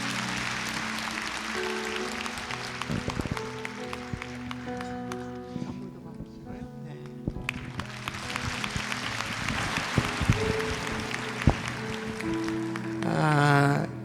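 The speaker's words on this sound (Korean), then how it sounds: "축복의 박수 하겠습니다" A church congregation gives a round of blessing applause during a Sunday worship service, steady clapping that mixes with organ or keyboard tones and a speaking voice.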